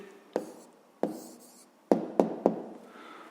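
A pen on paper writes down a math answer in a few short, distinct strokes and taps, spaced irregularly and heard close up in a quiet room.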